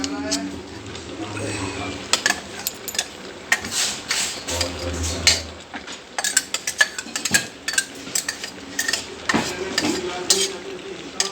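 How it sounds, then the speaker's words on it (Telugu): Goat head meat frying in oil in a pan, soft crackling sizzle broken by clanks of a spoon stirring against the metal, with intermittent talk and scraping through the clip. "తలకాయ అయితే ఇలా వేగుతుంది"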